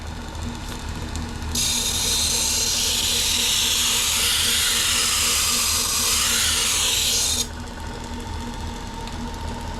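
A Tradesman power strop runs against a knife blade while raising a burr, a loud, steady hiss and whir that starts abruptly, holds for about six seconds, then cuts off, over a low motor hum.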